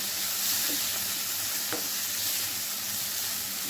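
Okra frying in a pan with turmeric and salt while being stirred, giving a steady close sizzle with a brief scrape of the spoon partway through, no voices.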